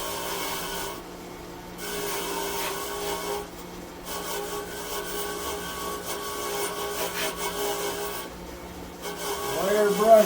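A wire brush wheel spins on a bench grinder, scrubbing pitted metal from a starter motor with a steady rasping hiss that briefly drops out a few times as the part is lifted away.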